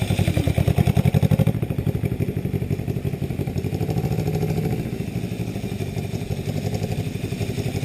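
A 1966 Honda CB77 motorcycle engine runs close by with a steady, throbbing exhaust pulse, a heavier stretch at the start easing into an even idle-like beat as the clutch engages, with no talk.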